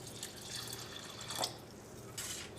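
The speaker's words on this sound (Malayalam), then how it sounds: "ഇതിലേക്ക് ആവശ്യത്തിന് വെള്ളം ചേർക്കാം." Water trickles quietly into a grinder jar holding rice, with a couple of brief splashy surges, alone with no voices.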